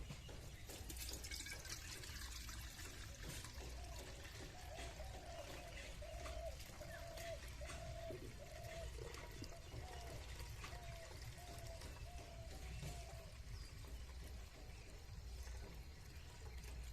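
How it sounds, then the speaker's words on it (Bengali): Date palm juice pours and trickles into a pot through a strainer in a village kitchen, a steady faint liquid stream beneath a soft, repeated tonal ripple, quiet and close. "তার জন্য হাঁড়িতে রসটা ছেঁকে নেব।"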